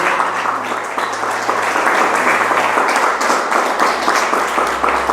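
A church congregation at a prophetic sermon gives a loud, full round of applause, steady and dense clapping that carries on for several seconds without speech.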